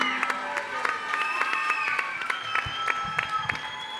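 Scattered audience clapping with some crowd noise greets a contestant at a talent-show evening, the claps sparse and uneven rather than a full ovation, with music tones sustained underneath.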